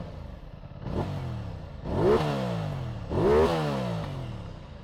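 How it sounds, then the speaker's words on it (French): An Aprilia RS660 motorcycle on its stock exhaust, engine warm, is revved three times in a row, each blip climbing sharply then falling back to a steady idle, close and loud with no one talking. "cet échappement qui, je le rappelle, est totalement d'origine"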